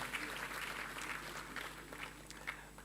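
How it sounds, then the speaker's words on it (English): Audience at a Nigerian agro-industrial program launch applauding Governor Ayade, steady distant clapping that sounds soft and slightly muffled, with some voices underneath. "kindly give a warm round of applause to Governor Ayade"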